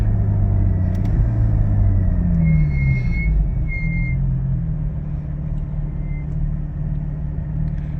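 A car fitted with a Soul Performance V2 exhaust drones steadily with deep engine rumble while driving, pitch dipping and rising through shifts, loud and continuous from inside the cabin without speech.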